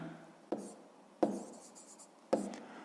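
Pen writing on paper during a maths exercise, three short scratchy strokes spaced about a second apart, close and quiet with soft trailing scrapes after each.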